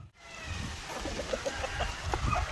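White Leghorn chickens cluck in a farm flock, a steady scatter of short clucks and calls repeating throughout over low background rumble, moderately near.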